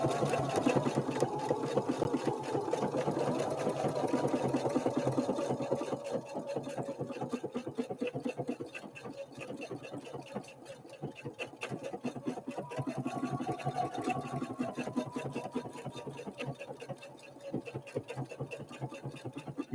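A Husqvarna Viking Opal 650 sewing machine runs a straight stitch, its motor whirring steadily for most of the stretch with a brief dip partway through and faint clatter of the needle throughout.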